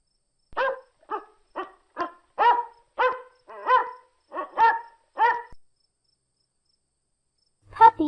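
Domestic dog barking: a string of about ten evenly spaced, moderately loud barks heard close and alone, followed by a short pause and one more burst at the end.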